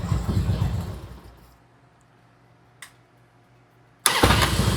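A 1999 Harley-Davidson Road King motorcycle engine runs loud and close, dies away to near silence for a couple of seconds, then fires back up abruptly and roars steadily again.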